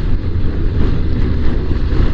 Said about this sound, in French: Bon, vous entendez, il y a du vent.